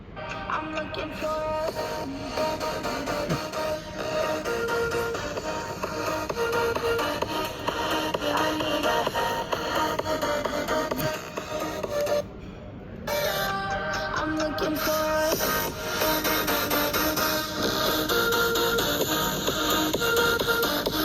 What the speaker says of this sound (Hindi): कैसा दोनों ही लैपटॉप्स के स्पीकर साउंड कर रहे हैं आप आगे सुन सकते हो।